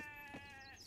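A single sheep bleats in an Age of Empires match, a short wavering game sound effect, faint and clean with no other noise.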